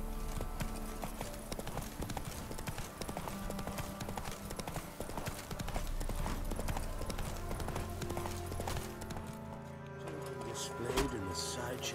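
Roach the horse trotting in The Witcher 3, hooves clip-clopping in a brisk repeating rhythm over game ambience and faint music, close and steady before fading near the end.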